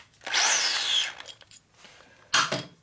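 Drill spinning without cutting on a custom Harley chopper part, a high whining burst under a second long, some scattered clicks, then a shorter second burst, close up with no talk.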